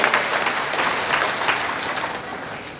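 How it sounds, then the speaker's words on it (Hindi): Loud, sustained applause from a satsang congregation at a devotional gathering, dense clapping filling the whole stretch without pause and slowly easing toward the end. "सारे जोरदार ताली बजाओ"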